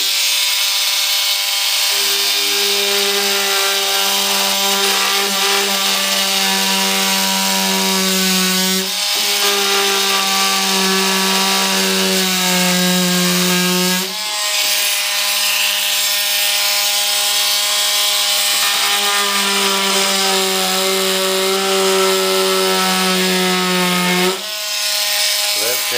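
A saw blade cuts through the body of an RC jet along a marked line, a loud continuous buzzing whine held steady for long stretches with a few brief breaks, close up and dominating the scene.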